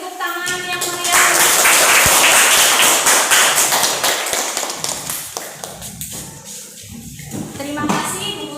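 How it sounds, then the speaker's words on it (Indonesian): A school class claps for a group's presentation, a burst of close, uneven hand claps and taps that swells after the first second, then thins out, with some voices mixed in. "Ya, beri tepuk tangan yang meriah."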